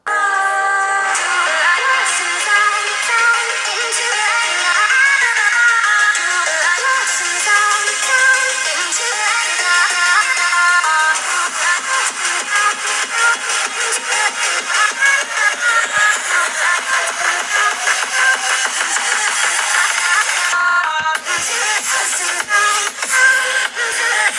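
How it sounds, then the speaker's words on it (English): Loud, continuous music with clear melodic and rhythmic content, slightly thin and bright as if coming from a small phone speaker, with no talking. "Let's listen to some music over here."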